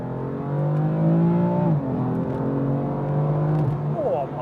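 A 2017 BMW M4 in Sport Plus engine mode accelerates hard, its loud close engine tone climbing through the revs, with two gear changes marked by brief drops in pitch before it pulls again.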